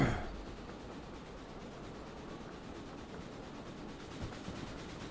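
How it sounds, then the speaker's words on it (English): Steam locomotive hauling gondola cars across a rail switch in the Derail Valley train simulator, a steady rolling rumble with faint clicks, continuous and moderately close, no talking. "So we'll wait for our train to get over the switch."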